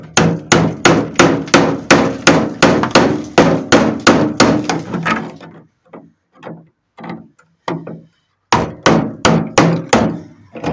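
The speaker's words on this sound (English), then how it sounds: "Get out the air chisel just for this." An air chisel hammering at a fender on a C10 truck under restoration, loud rapid bursts of sharp evenly spaced blows, a long run then scattered short hits and another quick burst, close and alone.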